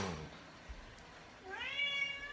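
A cat meows once with a rising, drawn-out harmonic cry near the end, after a short vocal-like sound at the start and a quiet pause.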